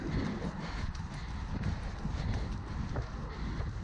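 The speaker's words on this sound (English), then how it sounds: "Trotting." Horse trotting outdoors on a foggy day in a GoPro recording, its steady hoofbeats mixed into heavy, constant wind and movement noise with no talk.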